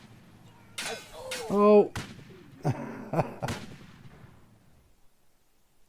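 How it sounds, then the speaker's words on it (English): A grenade is thrown and explodes in the World War II shooter Easy Red, one of a string of sharp booming blasts and thuds close by, with a brief startled exclamation in between. "I'm throwing a grenade"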